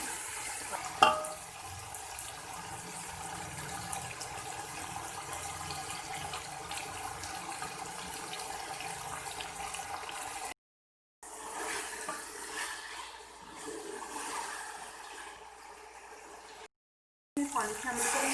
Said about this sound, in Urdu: پانی شامل کریں گے۔